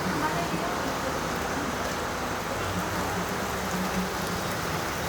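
Rain falls as a steady, even hiss with no clear pauses, fairly faint and continuous throughout.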